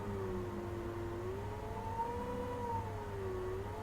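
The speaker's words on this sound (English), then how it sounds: "Both motors are going, the asynchronous motor and the DC motor." An asynchronous motor and a DC motor running together give a steady, even whir with a faint tonal whine drifting slightly in pitch, constant and close, with no voices.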